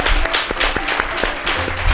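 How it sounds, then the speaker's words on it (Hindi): An audience gives a burst of loud, continuous applause to welcome children at a kids' show. The clapping stays steady and close for the whole stretch. "तो आइए आप सबकी जोरदार तालियों में अपने खूबसूरत और प्यारे बच्चों को वेलकम करते हैं।"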